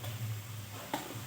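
Onions fry quietly in a pan for an Assamese chicken curry, giving a faint, low sizzle, with a single short scrape of stirring near the end.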